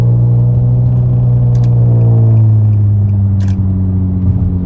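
A 7th-generation Nissan Maxima with a CVT transmission accelerates to pass a truck, heard from inside as a loud, steady engine drone whose pitch slowly climbs, with a couple of brief clicks and no talking.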